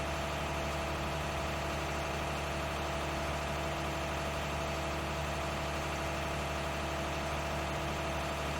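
A tractor engine idles in Farming Simulator 19, making a steady, unbroken mechanical drone with a low hum and constant vibration, with no talk over it.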